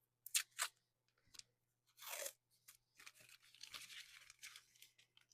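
Packing tape sealing the edges of a mail-packaging folio, pulled and torn in quick rasping bursts, a couple of short rips then a longer stretch and crinkly handling, close and isolated against silence.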